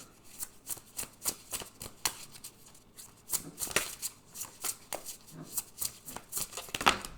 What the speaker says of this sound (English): Move some cards over, create some space